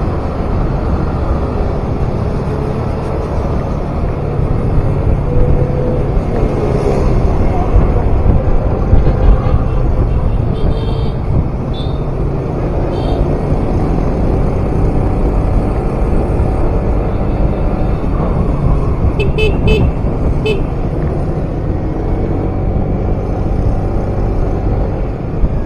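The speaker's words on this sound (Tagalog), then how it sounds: "Daming motor, oh." Busy road traffic with many motorcycles streams past, a continuous dense rumble of engines and passing vehicles with no talk over it.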